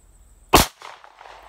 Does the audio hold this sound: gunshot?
yes